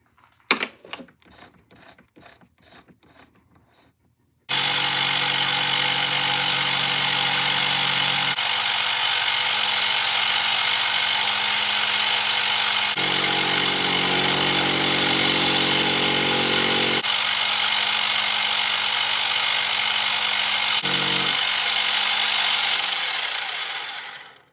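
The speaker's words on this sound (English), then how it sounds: "I'm going to put it back in the lathe and put a hole in the middle" A few light tapping clicks give way to a lathe motor droning loudly and steadily while turning a part for a quarter-scale Star Wars speeder bike model. The pitch shifts slightly before it winds down at the end.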